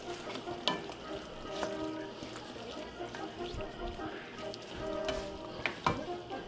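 Meat and diced tomatoes are stirred in a sizzling pan, a continuous crackling fry broken by repeated scraping and clinks of the spoon, close and fairly quiet.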